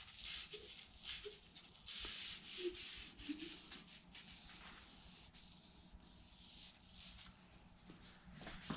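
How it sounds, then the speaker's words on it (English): A hand rubs an alcohol wipe over a 2020 Mustang GT quarter window, mostly around the edges, making a soft, steady scrubbing swish with faint squeaks, quiet and close. "Just wipe down the whole window."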